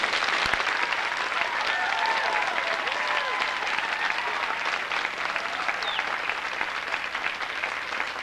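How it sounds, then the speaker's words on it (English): A lecture-hall audience at a humorous poetry reading claps steadily to vote for a putrid-poetry prize, a dense, sustained wash of applause with scattered whoops and voices mixed in, filling the whole stretch without letting up. "May we hear your applause now"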